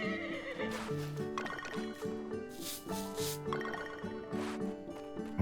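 A horse whinnies in the farming video game Story of Seasons: Grand Bazaar, a few bright neighing calls rising over steady, looping game music.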